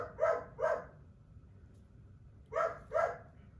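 A dog barks twice, pauses, then barks twice more, each pair sharp and fairly close in an otherwise quiet room.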